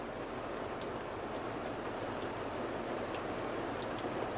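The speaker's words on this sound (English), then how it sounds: "See how much flow starts coming down this drainage area down here with just this little bit of rain." Light rain falls in the desert, a steady soft hiss that holds evenly throughout with no voices.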